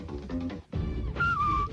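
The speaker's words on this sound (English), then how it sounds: "she gets a whistle from me" A man whistles approvingly in a radio studio, a short rising-then-falling tone heard close, following muffled studio sounds.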